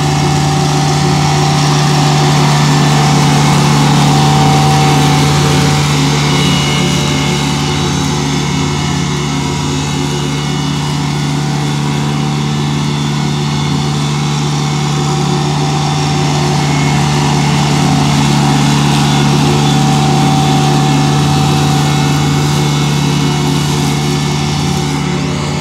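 LS sub-compact tractor (MT122 series) running at about 2,900 RPM while mowing rough, bumpy grass with a 60-inch mid-mount mower deck: a loud, steady engine drone with whirring blades, continuous and unbroken throughout.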